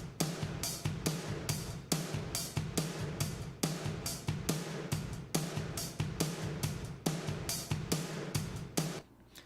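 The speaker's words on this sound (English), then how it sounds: "more excitement and more punchiness comes out of the drums" Drums in a music mix, crushed by heavy compression, pound out a steady, punchy pattern of loud hits with a pumping swell between beats, playing alone with no talk before cutting off near the end.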